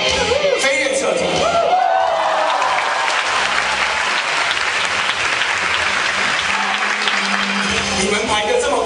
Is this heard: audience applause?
yes